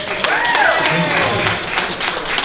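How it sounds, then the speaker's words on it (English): Audience applause at a cosplay fashion show: a dense wash of clapping from a crowd, steady and fairly loud throughout, with a host's voice and cheers riding over it. "Give them a round of applause."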